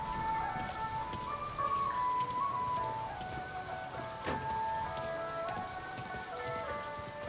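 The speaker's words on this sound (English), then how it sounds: "Tom, it's raining." Rain falls during a Mafia Remake cutscene, a steady hiss of drops on surfaces lasting several seconds, with soft melodic music tones drifting over it.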